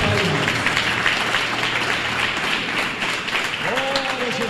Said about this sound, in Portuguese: pode louvar a Deus com as palmas.